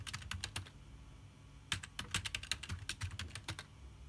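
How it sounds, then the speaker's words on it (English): Password being typed on a computer keyboard during a Windows 10 setup on a Raspberry Pi 4, with two quick bursts of soft, close keystrokes separated by a short pause and no talking. "Type in your password."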